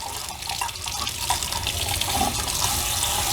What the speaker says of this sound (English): you wanna rinse it really well so none of the solution is on there